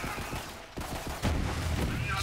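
Radiation gun firing in Borderlands 3, a rapid string of gunshots and bursts over busy combat noise, growing louder and denser toward the end, with a voice talking underneath.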